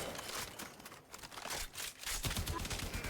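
Bratton rifle fire in a Warframe-style shooter game, a dense stream of rapid shots and impacts over about three seconds, steady and fairly loud, with no voices.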